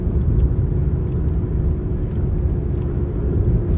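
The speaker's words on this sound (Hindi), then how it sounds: "17 घंटे 8 मिनट से गाड़ी का इंजन स्टार्ट है और सेम नॉइस है जैसा ओरिजिनल नॉइस होती है" A Škoda Superb idling after many hours of nonstop running, giving a steady low rumble and hum that stays even and fairly loud, heard from inside or near the car with no talking.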